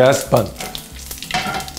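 Tadka spices, turmeric and chili, sizzle and crackle in a hot pan with the gas turned off. The frying is close and fairly loud, with brief stirring scrapes.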